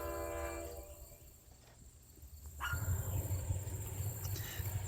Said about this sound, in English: GP10 732 is on the point, with GP10M 576 trailing. It was a heavy load, and they went up to Notch 8.